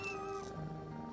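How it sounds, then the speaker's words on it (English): A young female kitten, about three or four months old and found in a bush, meows faintly in one drawn-out, wavering cry at a vet clinic, with no talking. "This is a little kitten who was found in a bush up the road."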